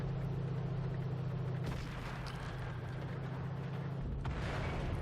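Tanks with artillery support fire on a beach assault in a strategy game, a low rumbling backdrop broken by two heavy, distant booms a few seconds apart, with no talking.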